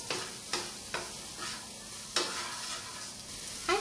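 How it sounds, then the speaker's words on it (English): Spices such as red chili, turmeric and coriander powder being stirred into vendakka masala in a pan: a series of distinct scraping strokes about every half second over a faint sizzle, close and quiet, no voices. "And now let us mix them very well."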